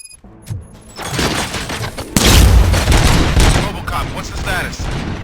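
RoboCop 3 video game gunfire erupts after a brief lull, a loud burst of rapid shots and booms with crackling echoes.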